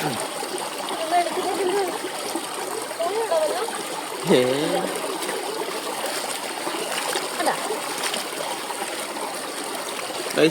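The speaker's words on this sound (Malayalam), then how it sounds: "കൊട്ടക്കകത്തുനിന്ന് വെള്ളം കയറുന്നു, കൊട്ട പൊക്കുന്നു, വെള്ളം പൊക്കുന്നു." Water streams and splashes steadily as it runs into a basket being lifted out of the water, with a brief louder splash midway and speech over parts of it.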